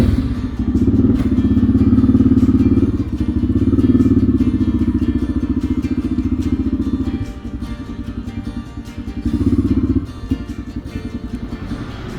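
A motorcycle engine idles and revs nearby, a loud, steady rumbling putter with swells in throttle and occasional clunks as the bike is moved, with rain-soaked surroundings.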